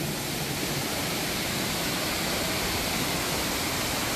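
Rushing waterfall in the Serra das Andorinhas park in São Geraldo do Araguaia, a constant loud broadband roar of falling water, unbroken and close.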